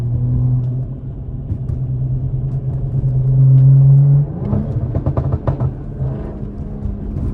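A loud, deep engine rumble from a tuned 500 hp BMW M340i with a downpipe drones steadily, swells briefly, then breaks into choppy, uneven exhaust burbles nearby.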